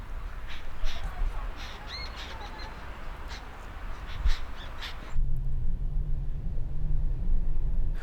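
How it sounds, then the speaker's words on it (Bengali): Crows cawing in a casuarina grove near the beach, several harsh calls scattered over steady breeze and background murmur, with the birds moderately distant. "পাখির আওয়াজগুলো শোনা যাচ্ছে"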